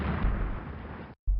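A dense, sustained roar of naval cannon fire from cruisers in the Rule the Waves naval strategy game, loud and continuous, cutting out briefly before another blast starts.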